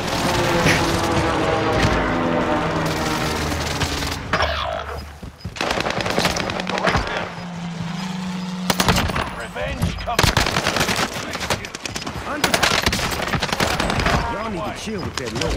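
Air strike and gunfire in the video game Warzone: heavy, continuous bursts of automatic fire and blasts, loud and dense, with game voice announcements over the barrage.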